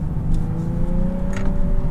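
Naturally aspirated V6 engine of a Nissan 370Z Nismo accelerating out of a roundabout, a close, steady mid-pitched drone with rising engine tones, heard alone without talk.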